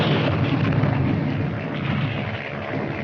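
Artillery fire in a war film plays as a continuous heavy rumble of distant booms and blasts, loud and dense throughout, with no clear gaps between shots.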